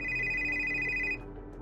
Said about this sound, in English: as you're getting ready to leave, you hear the phone ring